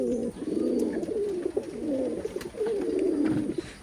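Khulna old-breed pigeons coo steadily in a continuous, rolling low burble, close and fairly quiet, with a short pause before the cooing resumes and no voices.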